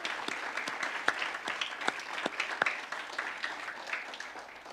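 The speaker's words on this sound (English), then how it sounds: "let's let them know by giving them a round of applause" An audience at a church Vacation Bible School evening applauds steadily, a warm wash of clapping with a few sharper claps standing out near the front.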